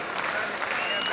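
Concert hall audience applauding a composer, a steady dense wash of clapping from the crowd, loud and continuous for the whole moment.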